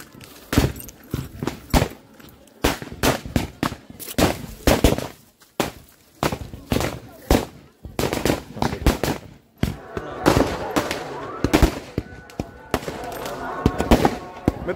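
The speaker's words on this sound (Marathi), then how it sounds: "तिथून फटाके लावतात" Fireworks and firecrackers set off at a torch festival at Govindgad fort, crackling in rapid volleys of loud pops and bangs that keep going almost without a break over a noisy outdoor background.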